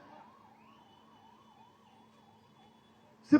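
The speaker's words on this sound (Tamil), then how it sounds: "இந்த நம்ம ஆம்புலன்ஸ் 108 ஆம்புலன்ஸ் போது பாரு." A 108 ambulance siren wails with a steady rapid up-and-down warble, fairly faint and steady in level as it goes by, ending in a sudden loud knock near the end.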